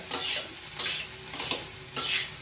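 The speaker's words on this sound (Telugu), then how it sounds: "హై ఫ్లేమ్లో పెట్టుకొని ఫ్రై చేసుకోవాలండి." Chicken fried rice is tossed over a high flame, four loud bursts of sizzling and spatula scraping arriving in a rough rhythm, each fading back to a softer fry between them.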